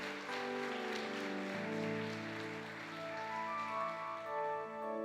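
A church congregation claps for the Lord during a sermon, the steady, dense clapping running throughout under sustained organ or keyboard chords.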